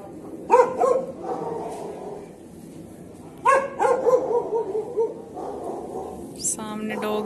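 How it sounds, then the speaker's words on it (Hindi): A dog barks in two clusters of sharp, repeated barks, somewhat distant, with a voice speaking near the end. "ये देखो कैसे डॉगी भौंकने लग रहा है सामने।"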